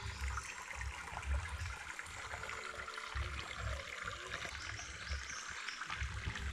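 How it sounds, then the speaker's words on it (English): A small stream runs with low water beside a hiking trail on the Conway Circuit near Airlie Beach, giving a steady, close trickle and wash of flowing water with no pauses. "really nice to hear the running water."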